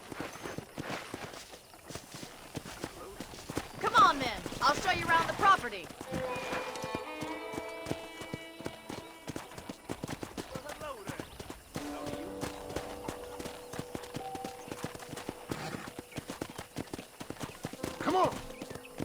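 Horse hooves clip-clop in a steady walking rhythm in the Red Dead Redemption video game on PS4, running under a character's speech, with a brief whinny and soft background music.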